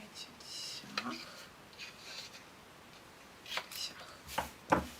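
Scissors snip through paper while scrapbooking a photo album, with a few crisp cutting strokes and rustling handling noises near the end, fairly faint and close against a quiet background.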